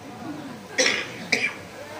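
Two short coughs, about half a second apart, over a quiet background hiss.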